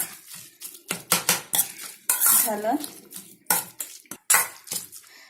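Spoons and utensils clatter and scrape in a bowl in quick, uneven bursts while roasted eggplant bharta is mixed up close; a brief spoken word is heard.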